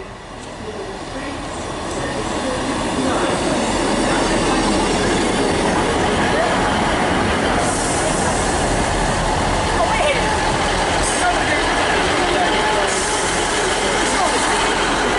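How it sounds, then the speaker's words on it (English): A Northern class 158 diesel train departs Chesterfield station on the Midland Main Line. A loud, sustained rumble builds over the first few seconds and holds steady, with faint wheel noise and occasional higher screeches over the drone. "departing now is going to be the 11:55 Northern service to Leeds with 158901"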